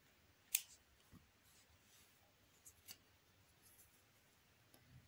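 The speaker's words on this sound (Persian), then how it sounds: "قیچی میکنیم." Scissors snip through yarn while crocheting an amigurumi kangaroo, giving one sharp, close cut followed by a few faint clicks and small handling sounds in a very quiet room.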